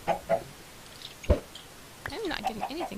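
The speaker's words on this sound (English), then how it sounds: "we've got some chickens going here already, and an egg." Chickens in the video game Minecraft cluck a few times, with short separate calls early on and then a livelier run of rising and falling clucks near the end, close and clear over quiet background noise.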